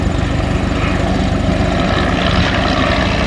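Loud, steady engine drone of vintage World War I propeller fighters, a Fokker D VII, SPAD VII and Fokker Dr. I triplane, in an airshow dogfight, a continuous rumbling roar that swells slightly as planes pass close by.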